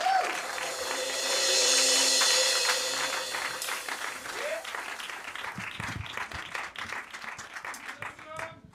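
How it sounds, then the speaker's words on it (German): Live audience applauding at an unplugged concert night in a club, steady dense clapping that swells early then continues under scattered cheers and a voice near the start. "Einmal Applaus bitte"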